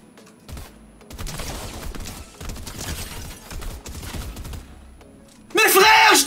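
Video game gunfire in Fortnite, heard as bursts of repeated shots at moderate loudness, ending in a sudden loud blast.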